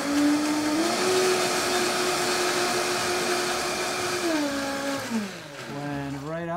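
A blender purees roasted beets with extra virgin olive oil in a loud, close, continuous whir whose pitch holds steady and then drops and wavers near the end as the mixture smooths out.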